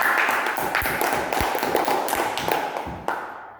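A primary school class applauding a student after her science presentation, a short burst of scattered clapping and taps that starts fairly full and thins out, fading to near silence by the end.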